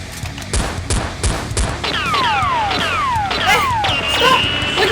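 Nerf blasters fired in a staged indoor battle, several sharp snappy shots in quick succession followed by whining, sliding electronic tones, close and loud, with no talk.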